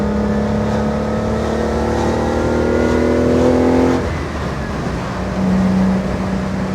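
A 1967 Fiat Dino Spider with a 2.0 engine accelerating on the road, heard from inside: a loud rising engine note climbs steadily, then drops at a gear change and pulls again, close and continuous.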